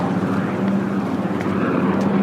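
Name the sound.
helicopter flying overhead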